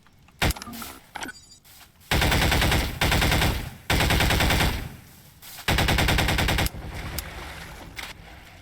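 Bursts of rapid automatic gunfire in Garry's Mod, shots striking brick and grass surfaces; several loud sustained volleys of about a second each separated by short pauses, with quieter scattered shots in between and no talking.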